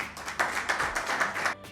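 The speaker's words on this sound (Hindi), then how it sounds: "आपकी भरपूर तालियों में जनाब" An audience at a Mother's Day mushaira claps to welcome a poet to the stage, a short burst of steady, even applause that ends abruptly.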